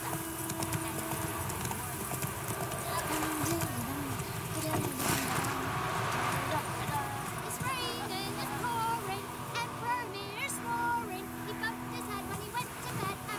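Horse hooves clip-clopping as the horse is ridden in The Witcher 3: Wild Hunt, a steady trotting patter mixed under game voices, ambient townsfolk chatter and music.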